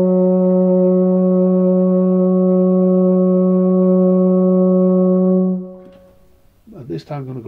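A beginner's brass instrument holds one long, steady, loud note for about five seconds, then fades out, and a voice briefly starts talking.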